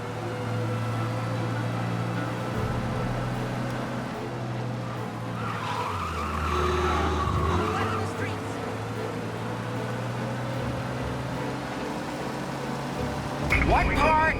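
A car races at speed during a chase in the video game Mafia Definitive Edition, with a steady engine drone, tire squeal and skidding throughout, and voices talking over it.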